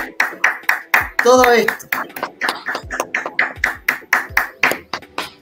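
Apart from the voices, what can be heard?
applause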